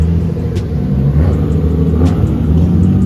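A Toyota RAV4 rolls past at a big car meet in Rosemead, its engine a loud, close, steady rumble that swells slightly as it passes, over outdoor crowd noise.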